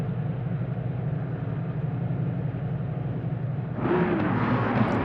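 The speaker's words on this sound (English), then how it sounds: "They're all starting. You can hear them revving up." Racing car engines at Snetterton in a video game start up and drone together in a steady, loud rumble that steps up sharply in volume and brightness as they rev.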